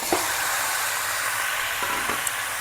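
Marinated chicken sizzles in hot oil with whole spices like cinnamon, cardamom and cloves, giving a steady close frying hiss with a few faint clinks of utensils.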